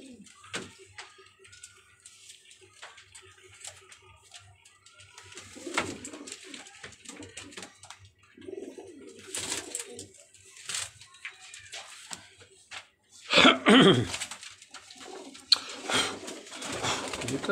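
Kamangar and golden teddy pigeons coo repeatedly in a keeper's loft, with soft rustling, a sharp knock and voices talking nearby between the calls.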